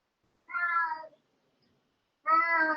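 A cat in Manchester's Northern Quarter meows twice, each call about half a second long, separated by a pause of over a second, clear and close against near silence.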